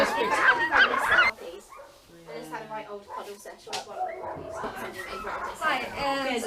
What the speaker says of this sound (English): today I'll try traditional Alaskan entertainment, dog sledding